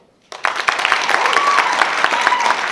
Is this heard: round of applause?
yes